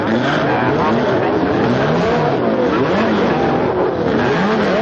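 Racing cars roll onto a starting grid, their engines roaring loud and close in an unbroken, overlapping drone. Revs rise and fall throughout, with a faint hint of tyre noise.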